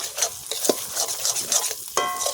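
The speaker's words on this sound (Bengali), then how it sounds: "লবণ, হলুদ, চিনি আর শুকনো লঙ্কা, মানে কাশ্মীরি শুকনো লঙ্কা গুঁড়ো, জিরে গুঁড়ো আর ধনে গুঁড়ো একসাথে দিয়ে দেবো।" Salt, turmeric, sugar, Kashmiri chilli powder, cumin and coriander powder stirred into onions frying for chicken kosha outdoors in the Sonajhuri forest, a close, steady sizzle with scraping spoon strokes and a sharper clink near the end.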